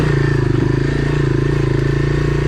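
A Honda Big Red 250es three-wheeler's engine runs in a loud, close, steady rhythmic putter with no revving.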